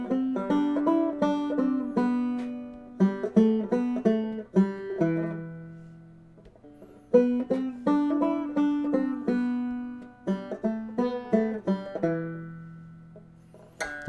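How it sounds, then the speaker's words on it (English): Played simply on clawhammer banjo, the third bar of the Irish pub song All For Me Grog comes twice, bright plucked phrases each ending in a ringing held chord, the instrument alone and close. "So then for the third bar, it's going to sound like this. I'm going to play it simply."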